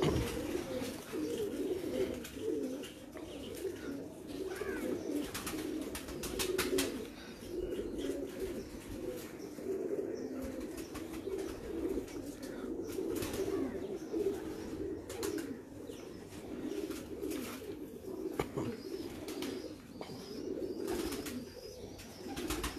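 Breeder pigeons coo steadily in a soft, low, continuous murmur, with several birds layering overlapping calls at a fairly faint, close level with no talking.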